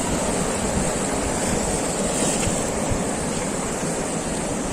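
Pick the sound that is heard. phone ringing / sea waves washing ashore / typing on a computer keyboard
sea waves washing ashore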